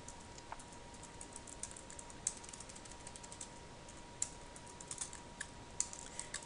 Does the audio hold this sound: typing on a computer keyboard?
yes